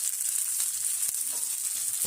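Avarekalu beans and vegetables fry in oil in a pan, a steady bright sizzle with faint stirring scrapes, close and even throughout.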